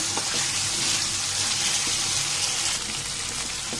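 Chicken pieces fry in a spice masala in a pan, giving a loud, dense, continuous sizzle with a few soft stirring knocks. The sound is close and has no talk over it.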